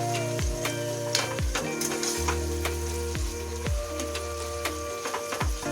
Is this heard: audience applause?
no